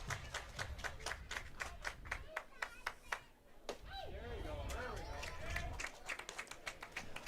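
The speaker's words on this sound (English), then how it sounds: "Everybody clap your hands." A baseball crowd in a stadium claps in rhythm, with sharp regular hand claps pausing midway under a broadcast commentator's voice and then resuming.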